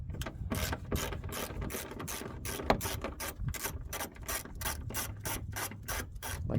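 A ratchet turns headlight bolts on a Hyundai Accent, giving a rapid series of clicking strokes close by with a steady, repeating rhythm and faint rubbing between strokes.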